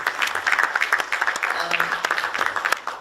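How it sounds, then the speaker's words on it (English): Applause at the opening ceremony of an ISESCO forum on women in sport, a moderately loud, uneven patter of hands from a modest crowd, with a voice speaking over it. "Donc, applaudissements aussi à nos frères qui sont là."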